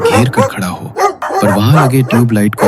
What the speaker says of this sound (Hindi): 10-12 कुत्तों का झुंड इकट्ठा होकर भौंक रहा था